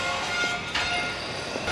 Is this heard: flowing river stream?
no